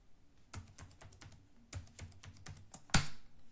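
Typing a password on a computer keyboard: a steady run of crisp key clicks in short bursts, with one louder sharp keystroke near the end, close up with no talking.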